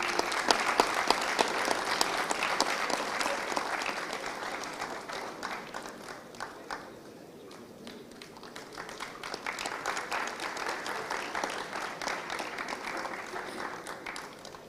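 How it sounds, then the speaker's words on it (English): Audience at a plenary session applauding a speaker, sustained dense clapping that dips briefly midway and then swells again, fairly distant and even. "Please have a big round of applause."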